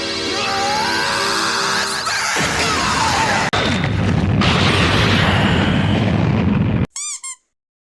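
Yusuke's spirit gun blast, an anime energy attack fired point blank at Toguro, roars as a loud, sustained broadband burst for about seven seconds, then cuts off abruptly and leaves a few brief squeaky chirps.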